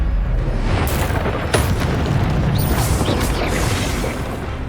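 An Expelliarmus spell effect in the Hogwarts Legacy video game: a loud, dense blast of crackling, booming energy that roars continuously throughout, with sharp pops and bright bursts flashing within the noise.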